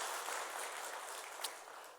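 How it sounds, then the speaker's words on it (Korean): A church congregation applauds in a soft, continuous wash of clapping that sounds distant and faint, fading slightly toward the end. "우리 박수로 격려하도록 하겠습니다"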